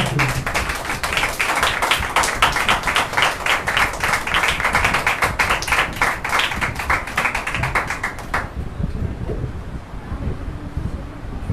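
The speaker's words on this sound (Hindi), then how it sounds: "आइए जोरदार तालियां परमेश्वर के दास के।" A congregation at a Sunday church service claps loudly to welcome the preacher, a dense, rhythmic burst of applause lasting about eight seconds before it stops abruptly and leaves quiet room noise.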